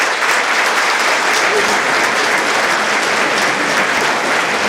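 An audience at a town mayor's New Year greetings event claps loudly and continuously, a dense sustained applause filling the room from start to end.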